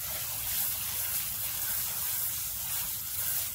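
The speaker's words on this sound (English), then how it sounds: "So let's get our water on it here." Water pours and splashes over dirty tumbled rock, a steady close hissing gush with no break, fairly soft and even throughout.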